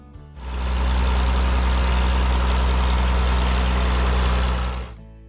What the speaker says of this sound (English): The diesel engine gave off a deep, throbbing beat